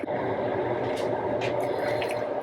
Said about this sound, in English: I'm going to fill this with water to get the rest of the tomato.